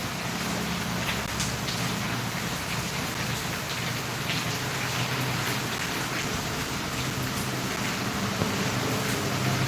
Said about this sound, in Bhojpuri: इधर बारिश बहुत हो रही है।